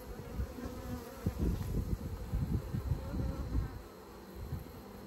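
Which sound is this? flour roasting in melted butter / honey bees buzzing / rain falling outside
honey bees buzzing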